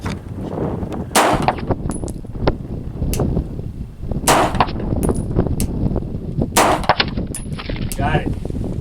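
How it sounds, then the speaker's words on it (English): Three loud, sharp gunshots from a Sig SP2022 pistol fired at a range, spaced about 1.5 seconds apart, each with a metallic ring, over a steady background of outdoor noise and brief low voices. "That's 3 shots."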